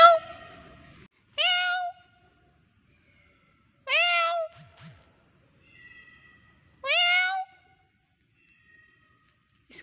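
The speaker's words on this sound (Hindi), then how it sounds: "ये बिल्ली की आवाज़ आ रही है आप लोग को?" Three distinct cat meows from above, each a short rising-falling cry, spaced a few seconds apart with quiet in between.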